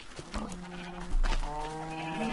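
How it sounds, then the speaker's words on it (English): A few short cow calls from Minecraft 1.2.5 ring out over a low background, with no talk, sounding like game farm animals rather than real ones. "I hear the cows."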